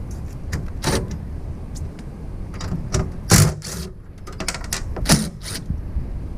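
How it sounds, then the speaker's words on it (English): Close-up clicks, rattles and metallic scrapes of bolts being worked loose from a Lomax tri-fold tonneau cover rail on a Toyota Tacoma bed, coming in irregular bursts over low background noise. "So now it's time to remove the Lomax tonneau cover rail."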